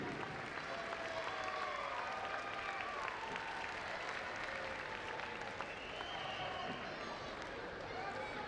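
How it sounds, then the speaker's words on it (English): An audience gives a dense, sustained round of applause honoring a 2018 Superman of the Year award winner, the clapping roaring steadily for over eight seconds with crowd murmur and a few faint voices mixed in. "please join us now as we honor with a warm round of applause Sam Higginson"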